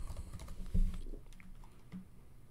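Fingers tapping a computer keyboard to type a web address into a browser search bar, a quick run of light clicks with a couple of firmer strokes, close and fairly quiet with no talk.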